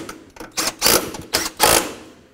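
A ratchet tightens throttle body bolts on a 2007-14 Chevy Silverado, close-up clicking in short bursts with brief pauses between strokes.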